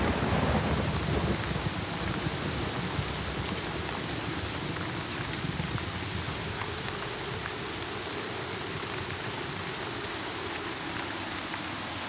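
Heavy rain pours steadily through a thunderstorm evening, a dense unbroken roar with low rumbling thunder beneath, loud and continuous with no voices.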